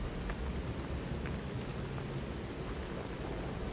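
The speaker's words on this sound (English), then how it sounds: "Yeah, the rain sounds really good, as weird as that sounds." Rain in the video game Lies of P: a dense, steady downpour hisses loudly and evenly, with faint spatters of individual drops and low rumbling beneath. No talking.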